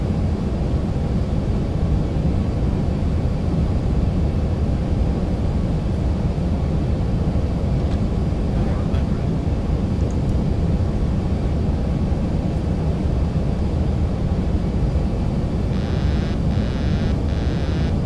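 Steady, loud broadband jet and airflow rumble of a Boeing 737-800 airliner on final approach in X-Plane 11, continuous and unchanging with a few faint clicks near the end.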